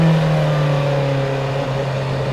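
A Bentley Speed 8 Le Mans-winning racing car engine pulls hard with a steady, loud droning roar and a sustained low hum, heard continuously without talk.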